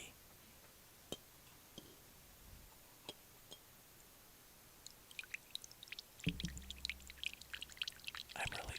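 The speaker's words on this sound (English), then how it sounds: "Okay, I'm going to now pour my whiskey." Scotch whisky poured into a glass: scattered faint ticks first, then a closer gurgling, trickling pour with small clinks near the end.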